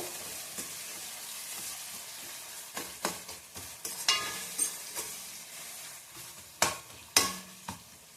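Vegetables frying in a pan for a veg paneer chapati roll sizzle steadily, with repeated scraping and stirring clatters and a few sharp knocks, close by and with no talking.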